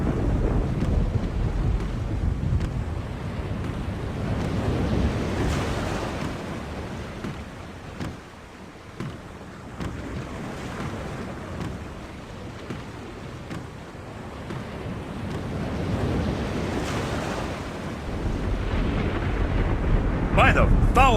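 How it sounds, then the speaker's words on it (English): A storm at sea closes in within the video game The Longest Journey, a steady low roar of wind and rumbling waves that swells and fades over about twenty seconds, loud and continuous. "The storm is closing in."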